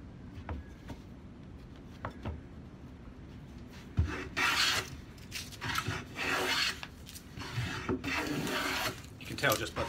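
A restored Stanley No. 10 rabbet plane shaves a pine board: soft scraping and light taps at first, then several rough, hissing wooden strokes of the blade cutting shavings, close and fairly quiet.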